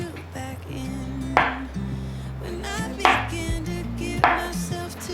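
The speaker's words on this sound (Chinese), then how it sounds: "豆腐切成片状" A knife slices a block of tofu into pieces on a cutting board, giving three distinct, sharp cuts spaced about a second apart over steady background music.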